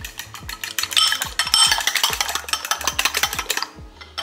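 Pancake batter with a splash of milk being mixed in a bowl: a steady run of rapid scraping, clinking strokes, close and fairly loud, with no talking.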